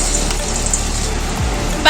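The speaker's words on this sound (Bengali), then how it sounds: "বাকিগুলো একইভাবে বলের মতন করে দিয়ে দিচ্ছি ভাজার জন্য।" Rohu fish balls for manchurian fry in hot oil with a loud, dense, continuous sizzle heard close up, and a brief stir or clatter at the very end.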